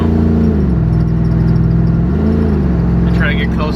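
Car engines rev hard and accelerate ahead of a race, the loud, close engine note climbing and falling in two strong surges over a steady rumble.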